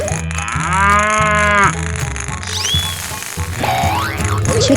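A cow moos loudly in a 3D animal slide video game, with one long bellowing call over steady looping game music and a rising whistle-like effect.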